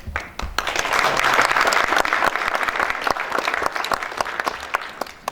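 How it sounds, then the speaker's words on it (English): Audience applause for the winners of a national anti-racism essay writing competition at a publication launch, steady and dense, with sharp individual claps standing out and fading toward the end. "So all of them, I think, deserve your applause if possible."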